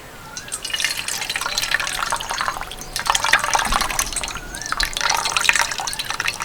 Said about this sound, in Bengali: ওর থেকে একটু জল ছড়িয়ে দিচ্ছি ব্যাস এবার ভালো করে ছেঁকে নেবো